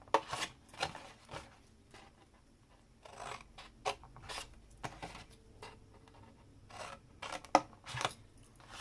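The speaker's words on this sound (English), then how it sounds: "we've cut up all of these sections" Scissors snip through paper sections for a hexagonal Stampin' Up! gift box, a series of close, crisp cuts in uneven bursts with short pauses between.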